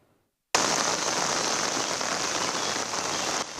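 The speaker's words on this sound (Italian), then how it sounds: "Le piogge delle scorse settimane, quelle che si stanno ancora battendo sul territorio" Heavy rain falls on hillside terrain near Valdobbiadene, a dense, loud, steady hiss that starts abruptly after a moment of near silence and continues without talk.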